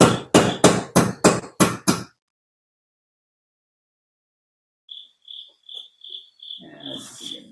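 A hammer strikes a BMW 328i tie rod seven times in a quick, loud, close run, then after a pause a series of lighter metallic taps rings out, ending in a brief muffled clatter.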